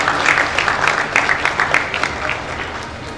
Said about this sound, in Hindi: जोरदार तालियां रुचि जी के।